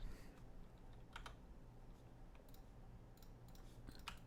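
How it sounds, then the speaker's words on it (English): Computer keyboard typing during a Diablo 2 session, quiet scattered clicks and short bursts of keystrokes at an uneven pace, fairly soft and alone with no talking. "I was typing"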